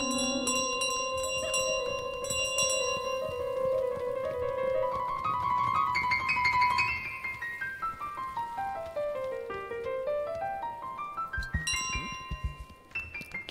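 Ringing chimes of the golden bell carried by the goose in Untitled Goose Game, a clear run of bright bell tones that sweep down and back up in pitch, with scattered tinkles and light footsteps near the end.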